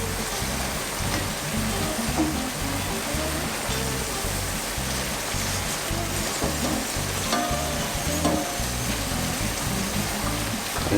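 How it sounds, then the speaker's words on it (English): Cooked linguine is tossed into a sizzling prawn and crab sauce in a pan, giving a steady close hiss and sputter with soft stirring and clatter throughout, no voices. "Let's just let's add the pasta into the sauce now."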